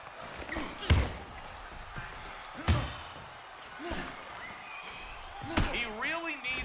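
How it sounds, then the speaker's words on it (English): Heavy punches landing in the PS3 boxing game Fight Night Round 3 during a Jones Jr vs Hopkins bout, several separate thudding impacts spaced a second or two apart under crowd noise and commentator speech. "Hopkins slams his opponent with 2 hard shots."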